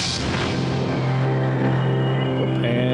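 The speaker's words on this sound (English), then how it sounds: "That noise was the hyperspace." Hyperspace effect in the space strategy game Homeworld Remastered: a loud, sustained, droning whoosh with a strong low hum and shimmering upper texture, swelling briefly near the start and holding steady throughout without speech.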